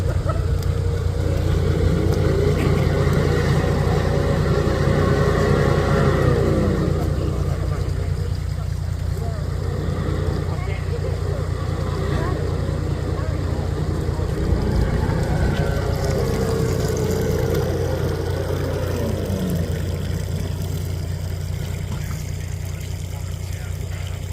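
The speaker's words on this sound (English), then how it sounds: "Listen to the engine roar" A heavy engine roars and revs loudly, its pitch rising and falling in long surges over a constant low rumble, near the Murray River.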